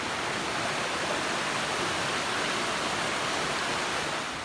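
Flint Creek rushes through rich cove forest in a dense, unbroken roar of flowing water, close and loud, with no voices over it.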